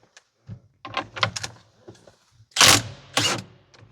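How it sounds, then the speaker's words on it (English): A 22 mm bolt being worked loose from the gear selector of a Case IH tractor: a scatter of close metallic clicks and taps, then two louder, sharper clanks near the end, with no talk. "Remove the bolt, it's a 22 millimeter."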